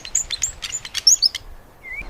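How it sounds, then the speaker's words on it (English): A small bird sings from a nearby branch in a peaceful outdoor setting, a quick run of bright chirps and twittering notes followed by one thin rising whistle, close and clear over quiet background. "A small bird lands on a nearby branch and begins to sing"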